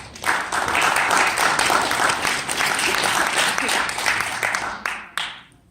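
Audience at a student event of an international appropriate-technology conference breaks into dense, sustained applause for a speaker, loud and steady before tapering off at the end.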